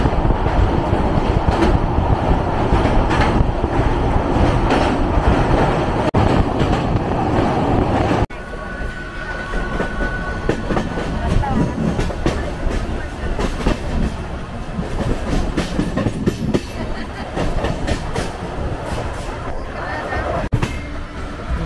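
Konkan Railway train 10115 runs just after leaving Bhiwandi Road station and crosses the Ulhas River, giving a loud steady rumble and clatter of wheels heard from on board, with the tone shifting partway through.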